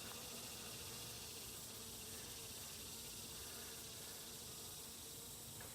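Honeybees from a swarm being hived crowd the hive frames, filling the air with a dense, continuous buzzing hum that stays steady and close, with no voices.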